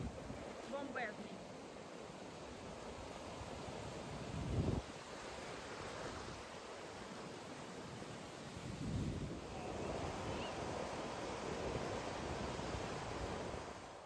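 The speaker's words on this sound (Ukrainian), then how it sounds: "Подивіться, який пляж. Довгий, піщаний, бомбезний." Waves wash on a long sandy beach in Turkey, a steady broad roar of surf mixed with wind buffeting the microphone, with swells rising now and then and faint talk in the background.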